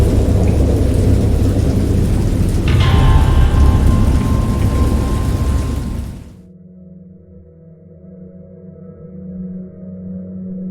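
A thunderstorm in the PC horror game Dagon: heavy, loud rain and rumbling thunder fill the first six seconds, then break off into a much quieter low droning ambience.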